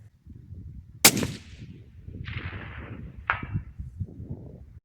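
A single sharp crack from a 6.8 Western rifle at an outdoor range stands out against faint background rumble, followed by softer hissing noises.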